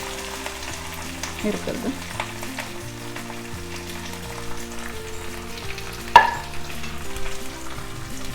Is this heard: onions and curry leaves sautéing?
yes